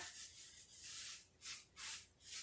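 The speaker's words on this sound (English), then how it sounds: "So I'm just using my saran wrap and I'm smoothing it on here" Plastic cling wrap is smoothed by hand over a Mod Podge-coated picture frame, making soft, faint hissing rubs in a few slow strokes.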